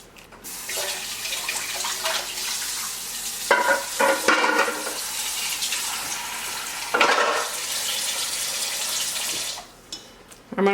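A spoon stirs and folds a sticky cookie dough mixture with melting pieces in a bowl, giving wet, smacking scrapes in bursts over a steady hiss, close and fairly loud.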